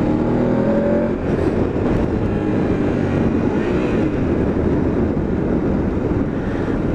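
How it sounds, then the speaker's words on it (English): A BMW F850 GS Adventure motorcycle runs steadily while riding, its exhaust a constant low rumble blended with heavy wind buffeting across the microphone, with no speech. "the exhaust sounds wonderful"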